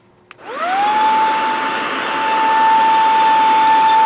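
An Oxilam 4-in-1 battery-powered portable vacuum cleaner clicks on and spins up into a steady, close, high-pitched whine with an airy rush, running alone without speech.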